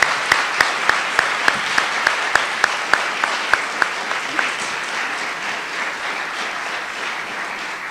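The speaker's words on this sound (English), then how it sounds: "I ask you guys to join me in just giving a round of applause for our 2 debaters" An audience at a formal debate event applauds the two debaters with a sustained wash of clapping from a large room, with one nearby pair of hands cracking out sharp, evenly spaced claps before fading into the crowd.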